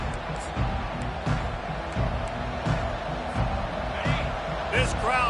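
Stadium crowd in a Madden football video game roars as a continuous loud rumble with rhythmic thumps and swells, under steady play-by-play commentary.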